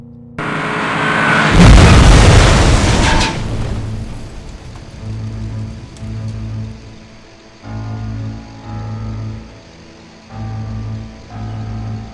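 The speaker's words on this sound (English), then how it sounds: "Detonate on my mark. Now!" Explosion in a Lego animated action film, a loud deep boom with crackling debris rumble that swells and fades over a couple of seconds, followed by a low intermittent musical drone, no talk.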